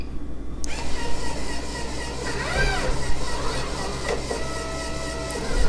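A Rotimatic automatic roti-making machine powers on with a sudden onset, then hums and whirs steadily with mechanical clicks and shifting motor tones, moderately loud and close.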